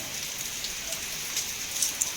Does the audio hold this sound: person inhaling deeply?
no